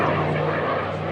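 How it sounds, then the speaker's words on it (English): A Spitfire passes overhead in a continuous propeller-engine drone above a RAF Brize Norton dining-in night, holding steady and fairly loud across the brief moment with no talk over it. "it's really exciting for us to see this Spitfire coming past"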